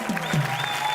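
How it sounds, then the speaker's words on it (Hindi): Studio audience on the Indian TV show Entertainment Ki Raat clapping for a guest, a brief, steady one-second burst of applause with no talking over it. "बिंदु पाजी के लिए जोरदार तालियां"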